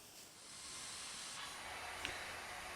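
Airbus A321neo jet engine in the airport game Tower! Simulator 3, a steady broadband hiss that swells slightly and holds, with one tiny click near the end.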